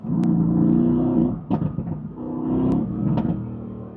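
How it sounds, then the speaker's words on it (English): A car's exhaust note swells through two revving bursts, each rising and falling with sharp pops between, heard up close while the car is stuck behind another car in traffic; no one speaks. "I think he just likes the sound of his exhaust because he's doing this."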